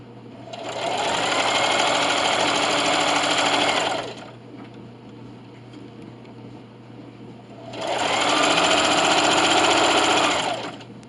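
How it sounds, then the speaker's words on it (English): A sewing machine runs in two bursts while stitching a receiving blanket, each a loud, fast whir of about three to four seconds, separated by a quieter pause. "And just keep sewing till you hit your other pin mark and backstitch."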